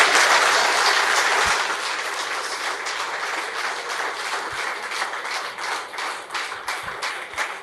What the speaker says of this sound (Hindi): अपनी जगह पे खड़े होके जोरदार तालियों के साथ स्वागत करेंगे मिस्टर प्रफुल्ल पंड्या